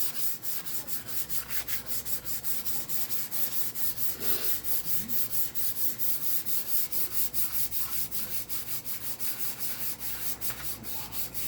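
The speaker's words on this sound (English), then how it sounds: "just kind of having to sand those down a little bit as well" Steady rhythmic hand sanding on a wooden J Bass guitar body, a continuous back-and-forth scratchy rasp with even strokes, close and fairly loud, no voices.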